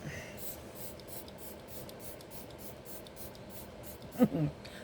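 A brief double burst of spray from a makeup spray bottle near the end, after several seconds of low steady background noise.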